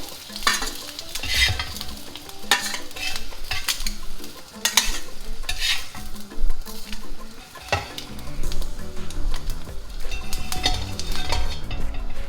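Street-style fried eggs sizzle in a pan as a spatula repeatedly scrapes and clinks against the metal in an uneven rhythm, close and fairly loud, with no talking.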